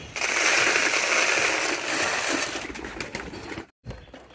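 A king pigeon coos amid loud, dense rustling and fluttering that fills most of the stretch, fading toward the end with a brief silent gap before faint sound returns.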